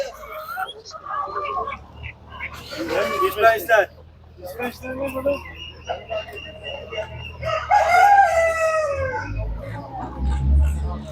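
Chickens cluck and a rooster crows nearby amid a busy Turkish poultry market, with people talking over the birds throughout.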